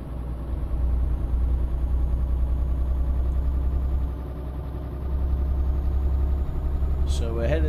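A truck engine drones at a steady low rumble while driving in Euro Truck Simulator 2, dipping briefly midway and then resuming, with a faint voice or game sound near the end.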